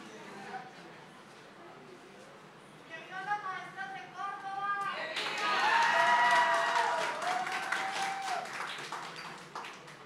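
An audience at a Teachers' Day event in Tierralta applauds the teachers, clapping building from scattered taps into a full round that swells and then tapers, with a voice speaking over the start.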